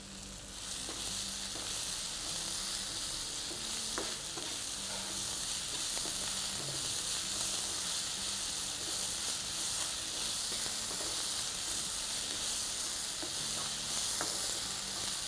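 Onions sauté in a pan for a tilapia fish masala, an even, continuous sizzle and hiss with faint scattered clicks of stirring, unbroken throughout.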